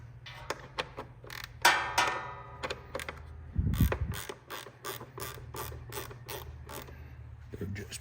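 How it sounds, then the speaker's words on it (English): Ratchet wrench working screws on a Kohler engine, giving a run of quick, close clicks in bursts with a few louder knocks and scrapes in between. "Get my ratchet wrenches."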